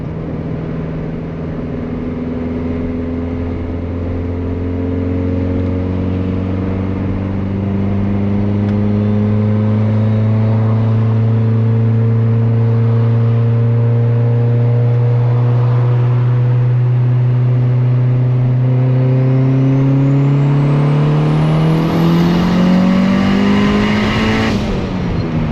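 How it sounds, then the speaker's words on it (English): A turbocharged Honda Civic engine held steady at several RPM levels, its loud droning exhaust tone rising in steps and climbing to a higher pitch with a faint whistle toward the end, no talking. "I held it at a couple different RPMs"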